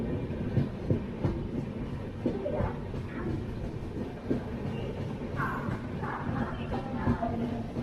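The 12107 Mumbai–Sitapur superfast express rolls along the rails in a continuous heavy rumble from on board, with rhythmic wheel clicks and clunks recurring throughout.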